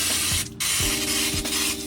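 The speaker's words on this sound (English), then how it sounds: "what I like to do is spray a little bit of brake clean in here" Brake cleaner sprays from an aerosol can into the differential of a 2014-2018 Chevrolet Silverado or GMC Sierra, a steady hiss with a short break, laid over a low mechanical hum.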